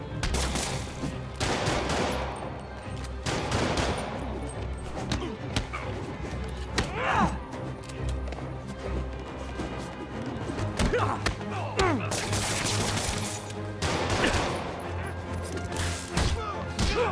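Spider-Man Remastered video game fight: dense, busy stretch of gunfire mixed with thumps, slams and crashes from close-quarters combat, with game voices shouting intermittently underneath.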